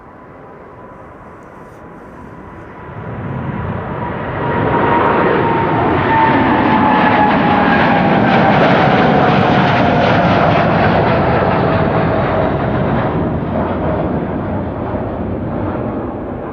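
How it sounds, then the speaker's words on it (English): Airplane engines at Amsterdam Schiphol Airport, on a brand-new jet less than a year old, build from a low rumble into a loud, sustained roar with a high whine running through it and stay strong to the end. "Brand new airplane, less than a year old."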